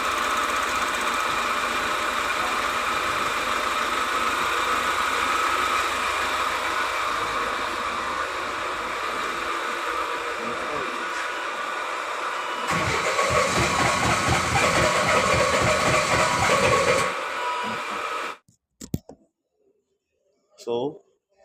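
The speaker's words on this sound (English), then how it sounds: "We put a new cam belt and the car was making a lot of noises you heard." Volvo V40 D4 diesel engine running loud and rough after a cambelt replacement, a steady close mechanical drone with a harsher surge near the end before it cuts off, followed by brief knocks.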